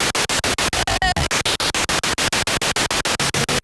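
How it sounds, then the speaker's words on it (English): A spirit box radio sweep, fed from the headphone output into an audio interface, produces loud, steady rhythmic bursts of static and noise, about six per second, with a brief tonal blip partway through. "So I just set the spirit box up, plugged the headphone output into my audio interface, and then just let it run"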